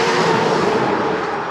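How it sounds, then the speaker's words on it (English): Loud, steady roar of road traffic, the broad rushing noise of a car going past close by, with no voices. "so you got to listen to cars drive by"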